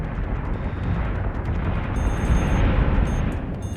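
Torpedo blasts in the space combat game Battlestar Galactica Deadlock, a loud, continuous rumbling barrage of explosions that swells toward the end, with no talk.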